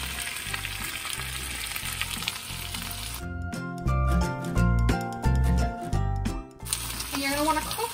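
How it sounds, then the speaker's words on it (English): Spinach fries in melted butter over high heat, hissing loudly and steadily, with bursts of stirring and clattering in the middle of the sizzle. "you're going to want to cook stirring it until the spinach starts to wilt"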